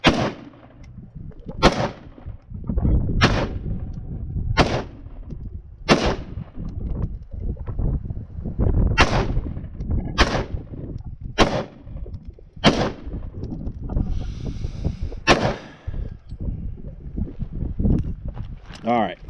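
Repeated sharp gunshots crack at a desert shooting range, about a dozen loud reports spaced a second or two apart with some overlap, ringing out over low outdoor rumble and background voices.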